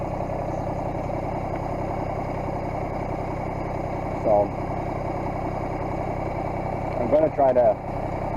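A tractor engine idles steadily and close, a constant low mechanical drone, with someone talking briefly over it near the end.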